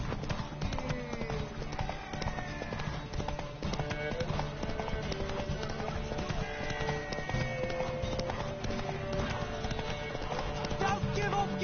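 Horse hooves clip-clop at a fast gallop throughout a race in The Witcher 3 video game, a steady, close drumming beneath game music and shouted voices.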